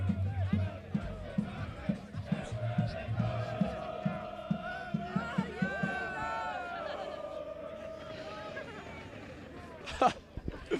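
Rugby union crowd at a University of Birmingham BUCS Super Series match, a steady hubbub of voices and shouts, with chanting swells and a brief loud burst near the end.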